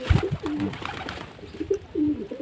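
Pet pigeons feeding on paddy grain coo several times close by, each low murmuring call rising and falling, with a few faint pecking sounds between them.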